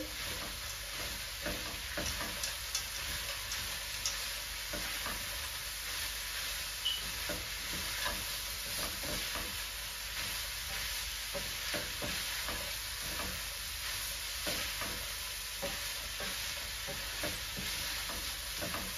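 Minced-meat biryani ingredients with a few peas sizzle steadily in a hot pan while a utensil scrapes and stirs in repeated strokes, close and moderately quiet, with no talking.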